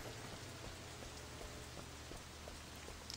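Rain falls steadily in the video game Sleeping Dogs, making a quiet, continuous hiss of drops with faint scattered patters and no voices.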